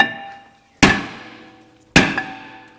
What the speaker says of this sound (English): So, I'm just gonna take my hammer. This might be a little loud.